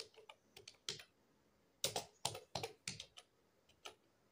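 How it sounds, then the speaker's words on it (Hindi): Keys on a computer keyboard are typed during data entry in an Excel spreadsheet, coming as quiet, close bursts of quick clicks separated by short pauses. "फादर्स नेम मैंने टाइप किया"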